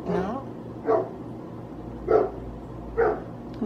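A dog barks four times, single sharp barks spaced about a second apart, fairly close in an indoor room with a faint steady hum underneath.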